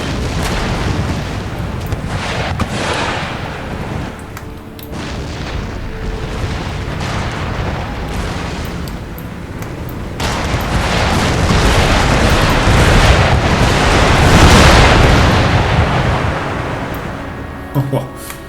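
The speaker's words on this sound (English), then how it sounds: "Talk about a barrage." An artillery barrage thunders in Empire: Total War as cannon fire booms and rumbles continuously against a wall, growing denser and louder toward the end, with someone talking over it.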